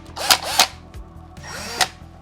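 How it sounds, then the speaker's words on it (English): A drill bit bores into the plug of a Spengler Neutrona Wand prop, giving a steady whirring motor hum broken by three sharp, loud grinding bursts as the bit bites in. "I'm going to drill at least partially, if not all the way through the plug"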